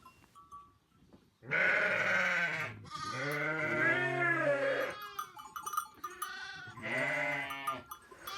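Sheep and lambs bleat nearby in a barn in a few loud, drawn-out calls separated by short pauses.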